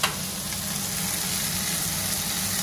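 Vegetables for a Moroccan fall couscous sizzling in a hot pan, a steady dense crackling hiss that holds loud and even throughout, with no voices over it.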